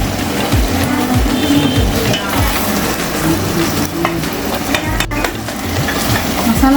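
Curry masala is stirred into tomatoes frying in a pan for a barracuda fish curry, giving a steady close sizzle with repeated scraping stir strokes throughout and no talk.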